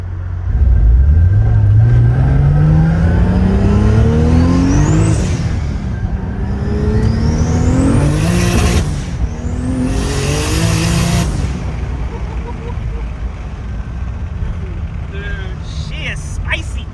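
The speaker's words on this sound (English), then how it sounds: "the best thing about this car is 2J sounds and the engine's louder than the exhaust" A Nissan S14 240SX with a single-turbo 2JZ engine and resonators with a big muffler revs hard, loud and close, its pitch climbing repeatedly through several sweeping rises before dropping off.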